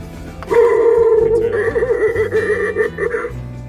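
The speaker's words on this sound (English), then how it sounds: "Found this black animated skeleton. It talks." A black animated Halloween skeleton toy speaks in a tinny, distorted, electronic tone for a few seconds, close up and loud.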